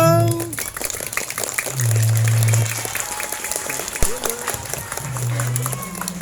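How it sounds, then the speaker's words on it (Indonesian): Audience applause after a primary school proclamation-text reading contest in Indonesia, with broadband clapping throughout, tonal hums and bits of crowd noise and chatter mixed in. "Tepuk tangan dulu."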